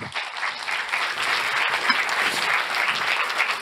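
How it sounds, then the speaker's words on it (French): Audience applause at an insurance industry awards ceremony, a full, even roar of many people clapping steadily throughout, loud and sustained with no pauses. "merci, on peut vous applaudir"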